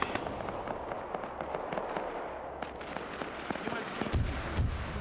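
Mortar rounds fire and burst in a multiplayer military video game, with a series of sharp cracks and thumps scattered over steady battlefield noise, a heavier booming impact near the end, and voices faintly in the mix.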